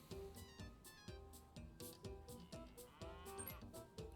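Cartoonish cow mooing repeatedly in rhythmic bursts within the Super Mario Party Jamboree video game, over steady game music, fairly quiet overall and without speech.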